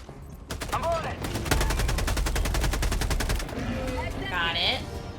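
Rapid automatic gunfire from a shooter video game as players blast swarms of bugs, a dense burst of close, loud shots running for a couple of seconds amid other game sounds.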